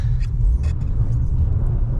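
A BMW M3 engine revs hard up close on ice, a loud low throbbing roar with slight surges, no speech.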